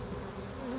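Honeybees fan their wings on a hive frame, giving a brief close, steady buzzing hum with no voices.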